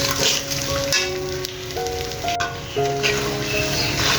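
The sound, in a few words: sugar and hog plums being stirred and fried in a pan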